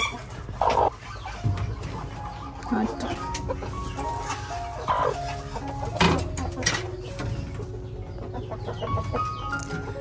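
Chickens cluck intermittently nearby on a rural Vietnamese farm while a person talks over them, with scattered rustling and farmyard background noise.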